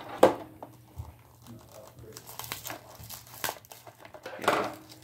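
Brand-new packaging is crinkled and torn open by hand, with scissors nearby, producing close crackling plastic rustles, a sharp rip near the start and another busier burst of crinkling toward the end, while a voice speaks softly in between.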